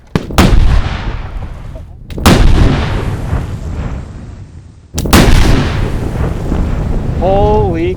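Three massive blasts from the detonation of 100 pounds of propane, each a sharp deep boom followed by a long rolling rumble outdoors, with a brief whistle near the end.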